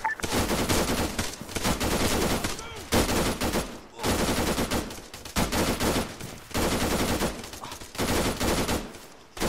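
Sustained machine gun fire in the military shooter Arma 3 hammers in long, dense bursts separated by short gaps, loud and close throughout the clip.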